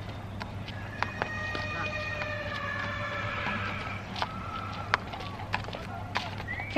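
A horse neighs in a long, loud whinny, followed by a few sharp hoof clops and knocks, with steady background hum.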